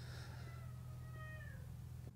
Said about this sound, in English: How come every time I try to film something, you want to come in here and meow?